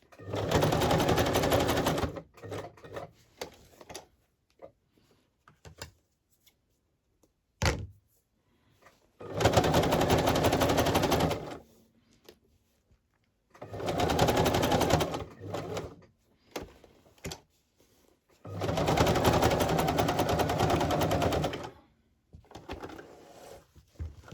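Sewing machine stitching and back stitching on a vintage lace journal cover, four loud bursts of running stitches separated by quiet pauses and small handling clicks.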